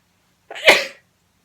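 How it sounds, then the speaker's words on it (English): A single loud, close sneeze with a short intake and sharp burst, surrounded by silence. "I'm going to sneeze."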